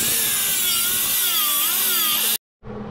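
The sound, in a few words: sanding disc grinding welds on a Toyota Tacoma frame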